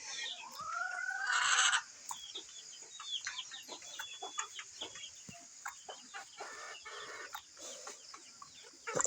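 Chickens cluck near village coops in rural Nepal. A rooster-like call rings out at the start, followed by busy overlapping clucks and scattered scratching sounds at moderate distance.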